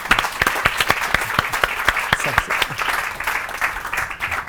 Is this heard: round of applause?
yes